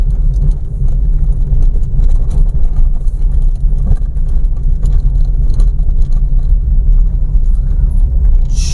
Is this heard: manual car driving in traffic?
yes